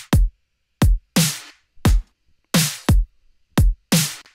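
A punchy drum beat built and mixed in Ableton, with limiting on the transients: a sparse, loud pattern of deep kicks alternating with bright, crisp snare hits, each sharply cut off, playing alone.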